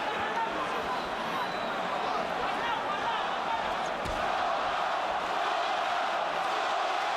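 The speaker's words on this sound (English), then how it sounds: "Puerto Rican crowd begins to chant for the man." A Puerto Rican boxing crowd chants at Madison Square Garden in New York during a 2007 bout, a dense, steady roar of many voices heard from within the arena under a commentator's talk.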